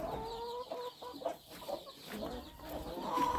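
Bantam chickens and chicks in a poultry pen cluck steadily and close by, with overlapping soft calls throughout and no clear talking.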